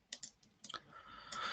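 Soft, close computer mouse clicks come in a few quick pairs while deleting items in Excel, quiet and isolated with no talking.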